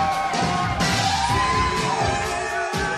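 A crowd at a Movie Trivia Schmoedown entrance boos and yells in a steady, loud wash of voices, with a few sharper shouts and bangs rising out of the din.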